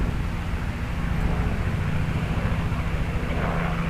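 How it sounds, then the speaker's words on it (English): A fixed-wing airplane passes overhead, giving a steady low engine drone that stays level and moderately loud for the whole four seconds, with no voices. "Plane."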